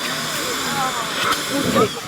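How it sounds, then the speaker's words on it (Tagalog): A vacuum cleaner with an attachment runs with a continuous loud hissing whine, and people talk over it close by. "yung vacuum cleaner natin, may attachment yan, saka malakas yung suction power"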